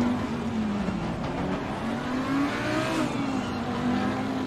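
A 2015 Audi R8 LMS race car engine drones steadily in Assetto Corsa Competizione at Silverstone, holding a constant tone with a slight rise in pitch midway, heard from on board with no talking.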